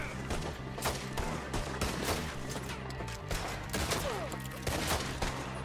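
Heavy gunfire in the video game Red Dead Redemption 2: dense, continuous volleys of overlapping shots and booming reports, loud and sustained with no pause.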